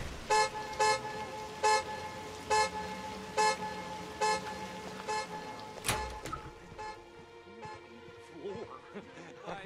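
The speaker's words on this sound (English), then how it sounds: "Don't you hear your car alarm going off?" A car alarm in the game Hitman Absolution sounds as a looping run of loud, evenly spaced horn-like honks. It stops abruptly around the middle, leaving quieter ambient noise and a faint murmur behind.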